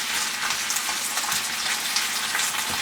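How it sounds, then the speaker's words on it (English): Meat and cashews sauté in a pan with garlic and Bragg's amino acids for a stir fry, giving a loud, steady, close-up sizzle that crackles on without pause and with no voices. "Now, you're going to saute this meat until it's golden brown."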